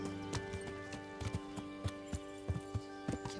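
Horse hooves clopping at a brisk walk in the video game Kingdom Come: Deliverance, in an irregular rhythm over a steady tonal hum, close and fairly quiet.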